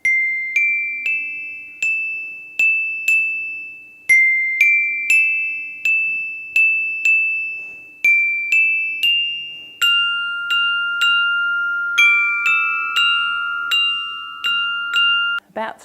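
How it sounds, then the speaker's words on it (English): Bright metal bars ring out in a slow, repeated melody, each note sustaining and fading, with a few chords near the end; clear and close. "this is a small glockenspiel and gives a nice ringing quality."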